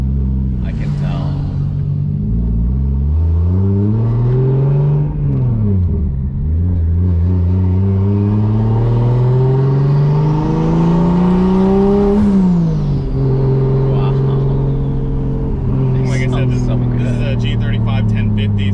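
A Toyota GR86 fitted with a swapped 2JZ engine rolls along slowly. Its loud, rowdy exhaust drone rises and falls in pitch as the throttle changes, and a voice speaks over it.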